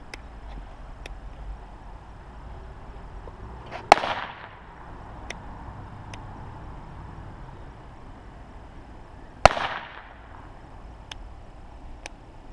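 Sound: firecrackers ignited by nichrome wire

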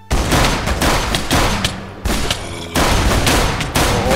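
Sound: gunfire in a zombie cartoon

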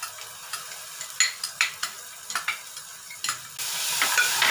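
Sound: garlic ginger paste frying with soft tomatoes

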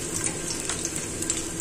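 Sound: chopped onion added to the pan, frying

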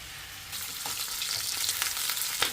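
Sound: garlic and onion sautéing in oil

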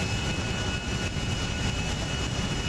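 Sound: airplane engine in GTA 5 video game

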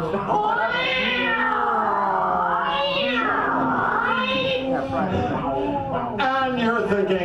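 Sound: performer imitating a giant black cat meowing

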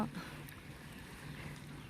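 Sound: boat motoring along a river

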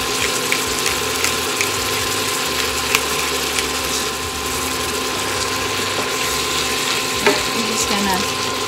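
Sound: sautéing stuffed portobello mushroom filling in a pan

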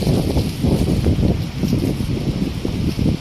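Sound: leaves rustling in strong wind

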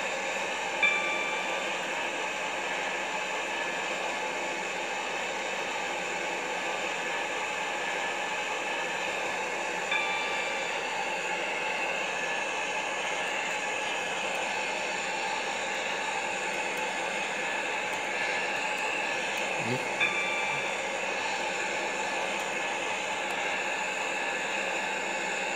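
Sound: train running, from the video game SCR (Stepford County Railway)

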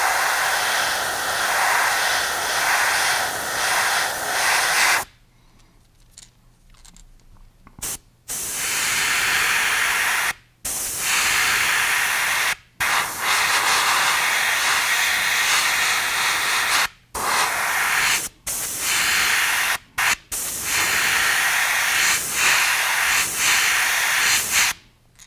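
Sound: airbrush spraying paint on a brown trout fishing lure

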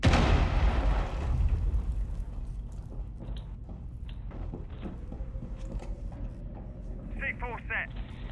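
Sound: frag grenade explosion in the video game Rainbow Six Siege

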